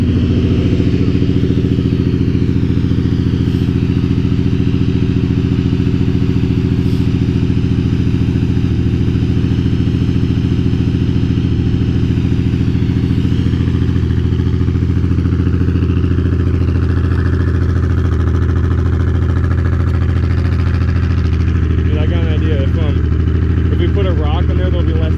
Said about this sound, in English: This is an epic burnout, folks.